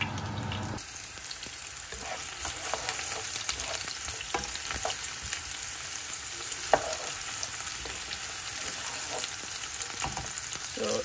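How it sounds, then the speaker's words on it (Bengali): Beef tripe fries with onion and dried red chilies in a hot pan, a steady, loud sizzle with frequent stirring scrapes running throughout, no voices. "একটু পেঁয়াজ দিব, তারপরে এই যে এখানে ভুঁড়ি আছে এগুলো ভেজে নেব"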